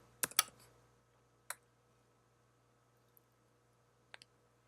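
Computer mouse clicking in a quiet room while setting a font size box in design software: a quick double click near the start, a lone click, then another close pair near the end, all crisp and soft.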